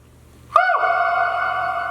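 A sharp attack opens into a sustained, buzzing vocal tone with heavy echo and reverb, grainy and amp-distorted, ringing on steadily after the onset.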